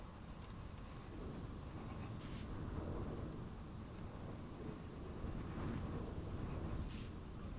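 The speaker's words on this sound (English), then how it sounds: "It's very windy today, maybe the microphone picks it up." Steady blustery wind buffeting the microphone, a continuous low rumble with gusts swelling and easing, alongside a rain-like hiss.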